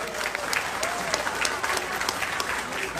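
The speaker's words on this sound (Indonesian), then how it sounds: "Tepuk tangan dulu dong untuk Pontianak." Loud crowd applause at a political town-hall event in Pontianak, dense clapping with scattered cheers and a voice underneath, filling the whole stretch.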